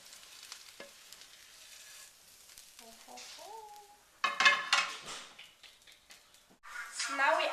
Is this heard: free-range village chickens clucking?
no